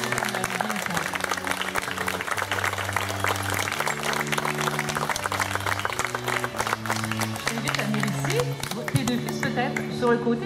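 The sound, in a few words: wedding guests applauding the procession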